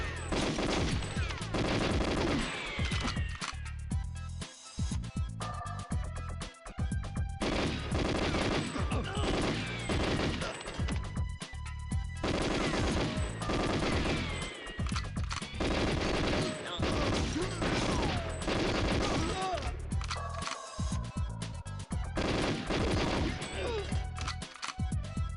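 Dense gunfire in GoldenEye 007 (1997): rapid automatic bursts and single shots crack almost continuously, with brief gaps, loud and close amid game sounds.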